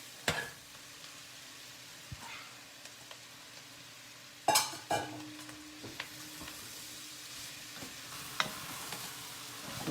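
Peppers drop into a pot of sizzling vegetables and spices for a vegetarian chili, bringing a steady frying hiss with scattered stirring scrapes and a louder clatter of added food midway.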